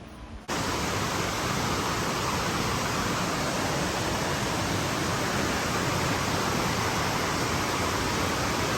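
Steady, full rush of stream water flowing down a steep hillside toward a waterfall, constant and close, starting abruptly after a brief quiet moment and holding unchanged with no talk.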